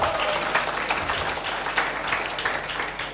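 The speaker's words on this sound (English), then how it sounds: "Can we have a round of applause for them as well?" A round of applause from the audience at a live student presentation event, steady dense clapping filling the room throughout with no break.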